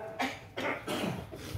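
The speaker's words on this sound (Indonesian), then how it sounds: "maaf sambil batuk" A man coughs a few times in a row while giving an Islamic religious lecture, with rough bursts at moderate volume and no speech around them.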